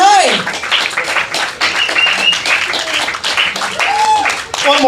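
Audience applause for the host at an open mic comedy night at The Brew House Gallery, clapping and cheers heard alongside voices and whoops, loud and close, sustained over a few seconds.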